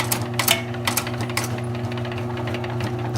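An electric 110-volt grommet, snap, button and rivet machine hums steadily while its press comes down with a few sharp metallic clicks and clacks near the start.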